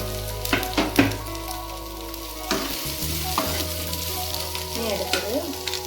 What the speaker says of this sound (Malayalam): പച്ചമുളക് ചെറുതായിട്ടൊന്ന് ഇളക്കുന്നു